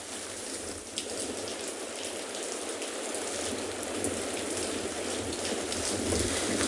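Rain falls steadily at a penguin beach, a constant close patter of drops on surfaces with faint wind noise throughout.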